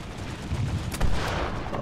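Sniper rifle shots fired during a Planetside 2 match, a dense burst of loud booming gunfire with one sharper report near the middle, heard alone without voices.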